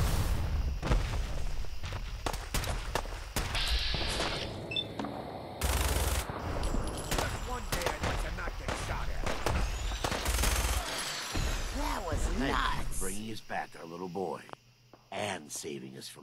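Bursts of automatic gunfire and scattered shots from gunners in a Fallout 4 firefight, loud and repeated across the scene with booms and movement mixed in.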